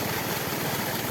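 Two engine-powered water pumps drain an earthen fish pond into a small stream, giving a steady, loud, close mechanical drone with a rapid low pulsing throb and no talk.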